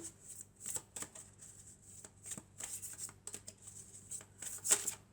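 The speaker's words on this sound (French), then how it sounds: "Alors on va prendre quelques cartes de l'oracle de la Triade." Triade oracle cards are shuffled by hand, giving a run of soft, crisp riffling flicks in short bursts with brief pauses, close and fairly quiet, with a sharper burst near the end.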